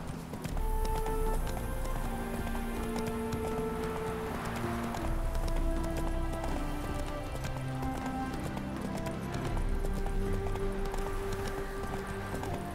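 Horse hoofbeats in The Witcher 3: Wild Hunt, a steady galloping clip-clop that runs throughout at close range, loud and continuous over a busy game soundscape, with an occasional whinny-like cry.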